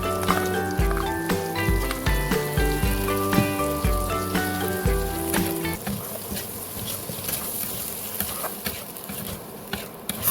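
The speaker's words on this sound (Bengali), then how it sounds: "এবার দিয়ে দেবো পেঁয়াজ রসুন আর আদার পেস্ট" Onion, garlic and ginger paste sizzling in a pan, first under a layer of sustained tonal music, then as a steady crackling fry with scattered pops. Nobody speaks.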